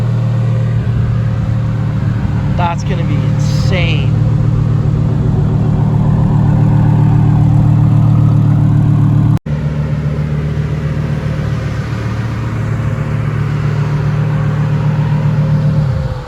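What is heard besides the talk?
twin turbo Lamborghini Huracan accelerating and idling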